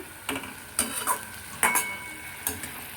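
Onion paste fries in a pan over raised heat, a soft sizzle under several distinct scraping and clinking stirring strokes at an uneven pace, close by.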